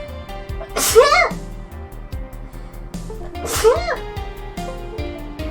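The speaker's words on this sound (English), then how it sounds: "Wasn't expecting to sneeze." Two sharp sneezes about three seconds apart, loud and close, over a steady bed of background music.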